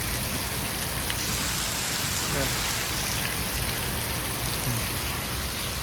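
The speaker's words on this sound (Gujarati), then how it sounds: "વરસાદ જોરદાર ચાલુ થઈ ગયા" Heavy, steady downpour of monsoon rain drumming on surfaces, a dense continuous hiss filling the whole stretch at close range, with no other sounds standing out.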